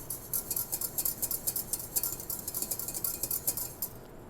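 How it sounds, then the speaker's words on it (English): A whisk clinks steadily against a pot while stirring orange juice gel on the stove, producing a fast run of light metallic taps and scrapes close by with no one talking. "I'm just going to whisk this and wait for it to come to a good boil"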